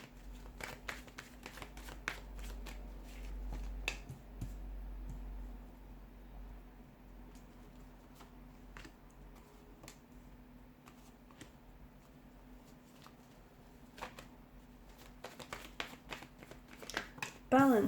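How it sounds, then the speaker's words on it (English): Tarot cards being shuffled in repeated quick riffles and slaps, crisp and close, with a steady low hum underneath. "give the cards a shuffle"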